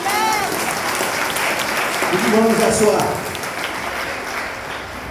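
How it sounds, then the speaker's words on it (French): A church congregation applauds during a French-language sermon, a steady wash of clapping under a pastor's voice, swelling briefly near the middle and easing as he invites everyone to sit. "Si tu le crois, applaudis maintenant."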